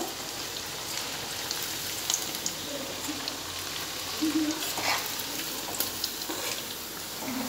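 A constant sizzling hiss of paneer frying in a pan, with faint crackles and a few soft bumps nearby.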